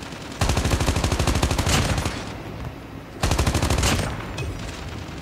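Rapid automatic gunfire in Call of Duty Mobile, a zombie attack mode, comes in two sustained bursts of about one and a half seconds each, close and loud, with a short pause between them.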